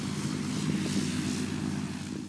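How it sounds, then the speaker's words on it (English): A tow plane's propeller engine drones steadily before a glider launch, a continuous close rumble with a low harmonic hum holding level throughout, no talking. "Of course, you'll need an initial liftoff, either by a cable winch such as this one, or a tow plane, and that's what we're going to use."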